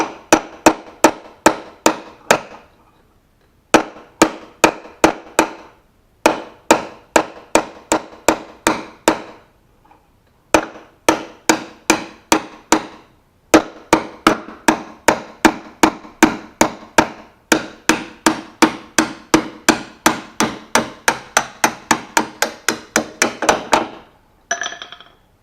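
Repeated hammer blows on a steel chisel driven under a tight lower door hinge pin of a 1982–1992 Firebird/Camaro, sharp metallic strikes in rapid bursts of several hits separated by short pauses, close and loud.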